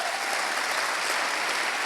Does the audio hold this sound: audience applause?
yes